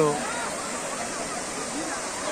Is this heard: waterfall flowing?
yes